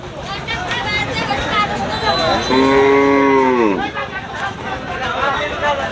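A cow lets out one long, loud moo midway through, over continuous background chatter and noise of other cattle tied in rows in a barn.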